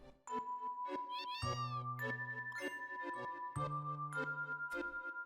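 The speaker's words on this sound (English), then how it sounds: "Don't forget to talk to the cat." A cat meows in Final Fantasy 7, with a string of chirpy game meows over bright jingling, chiming tones and steady tinkling notes, loud and close, with no talking.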